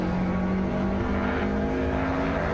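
A race car engine in Assetto Corsa EVO drones steadily at high revs, a continuous buzzing roar with no pauses, loud and close throughout.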